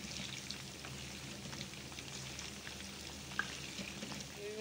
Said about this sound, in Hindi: इनको फ्राई कर रही हूँ मैं।